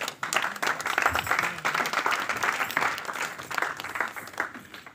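Congregation at a mothers' seminary closing service claps loudly and continuously, a dense wash of many hands with a brief voice in the mix.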